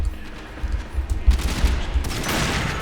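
Gunfire from the Lex pistol in the video game Warframe, a short cluster of heavy, booming shots over a rumbling, noisy game background, loud and close.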